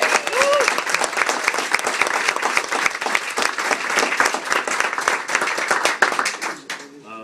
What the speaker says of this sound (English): Let's give one last round of applause for all three of the